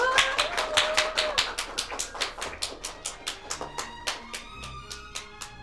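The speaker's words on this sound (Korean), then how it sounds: "박수 부탁드리겠습니다" Steady clapping from a wedding crowd during the ring exchange, a run of sharp rhythmic claps lasting several seconds at moderate distance, with no talk over it.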